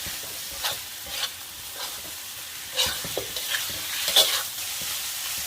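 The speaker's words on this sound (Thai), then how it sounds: "ใส่หมูสับลงไปเลยค่ะ" Minced pork stir-frying in a pan, a steady sizzle broken by soft scrapes and occasional sharper clinks of the spatula against the pan, close and moderately loud with no voices.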